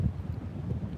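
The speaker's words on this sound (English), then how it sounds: "It's a little bit windy out here." Low, rumbling wind buffeting a microphone, a steady muffled roar with gusty swells throughout and no clear voices.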